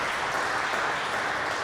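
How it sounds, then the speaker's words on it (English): Steady audience applause at a startup week conference panel, fairly quiet and even, continuous clapping with no speech over it. "can we give these guys a round of applause?"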